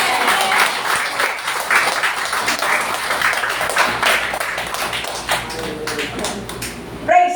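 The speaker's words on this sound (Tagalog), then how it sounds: "Ang palakpak po para sa Panginoon." Church congregation applauding during a service, dense continuous clapping from many hands, lively and close, fading slightly near the end.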